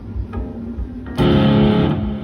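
A heavily distorted electric guitar through a BOSS GT-100 multi-effects unit plays a buzzing note, then a louder, fuller crunching chord rings out and sustains for a moment.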